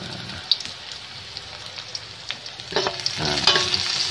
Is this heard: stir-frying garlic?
yes